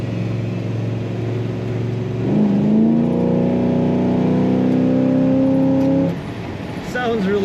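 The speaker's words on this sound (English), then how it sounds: "Sounds really good, and I can hear that 4-barrel open up." A 1972 Chevrolet Chevelle Malibu Sport Coupe with a cowl induction hood and 4-barrel carburetor accelerating hard from the cabin, engine note rising and holding a loud, steady drone for several seconds before easing off.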